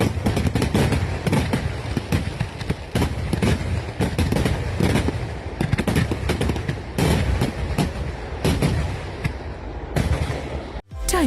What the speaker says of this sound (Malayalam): രാത്രി വെടിക്കെട്ടുമുണ്ടായി.